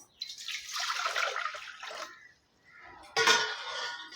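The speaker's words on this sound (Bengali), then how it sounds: "এখন আমি 1 মগ জল দিয়ে দিলাম।" Water poured from a mug into a pressure cooker on a gas stove, two bursts of splashing pour separated by a brief near-silent gap, the second starting abruptly and strongly.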